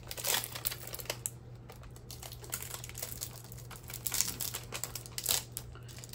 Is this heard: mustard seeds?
no